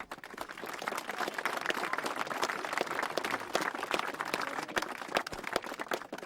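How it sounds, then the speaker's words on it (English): A crowd at a Gaelic football league final claps steadily and loudly throughout, a dense continuous patter of many hands with no pause. "both sets of teams need a good round of applause there, please"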